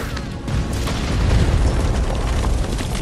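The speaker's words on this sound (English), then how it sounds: "I'm blowing bombs." Bombs exploding in the online PvP survival game Conan Exiles, a loud, continuous, rumbling boom that blends several blasts together without pause.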